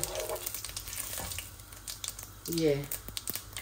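Cumin seeds and bay leaves hit hot oil in a pan at the start of a potato and cauliflower curry, giving a soft, steady sizzle with a brief louder crackle near the end, under faint background voice.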